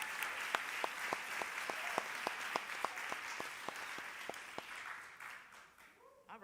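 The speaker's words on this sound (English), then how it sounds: "Let's give him a round of applause." Audience applause at a congressional town hall meeting: sustained clapping from a crowd for about five seconds with a few sharper claps standing out, gradually thinning and fading toward the end.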